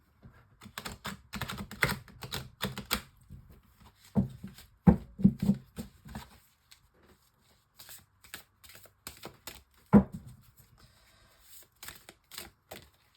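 Tarot cards shuffled by hand at close range, giving quick papery riffles and soft slaps in irregular bursts with short pauses between them. No one speaks.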